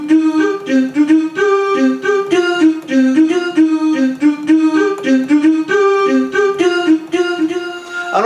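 Roland GP3 digital piano set to a doo-wop style voice, playing a bouncy repeated riff of short, clipped notes over a steady bass line, loud and close with no talking.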